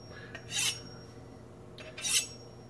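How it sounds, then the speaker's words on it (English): A slicing knife is honed on a sharpening steel: two short, bright metallic scraping strokes, about one and a half seconds apart, close by over a quiet kitchen background. "we're going to take our slicing knife and our sharpening steel and just give it a good edge"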